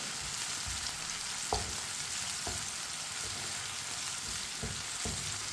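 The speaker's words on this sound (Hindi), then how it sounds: "सब्ज मिर्च और टमाटर को 2 मिनट के लिए पका लेंगे इसी तरह चम्मच चलाते हुए" Finely chopped green chillies and tomatoes fry in a pan, a soft continuous sizzle broken by occasional spoon scrapes and taps spaced a second or so apart, close but moderate in level, with no talking.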